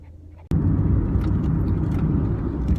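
Steady low engine rumble inside a moving car, continuous and fairly loud after a sudden onset, with no one speaking.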